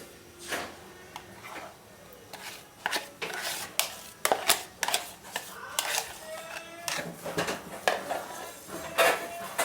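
Cake batter mixed in a bowl, a spoon or whisk clinking and scraping against the bowl in uneven bursts of taps and knocks, close up and fairly clear, with no talking.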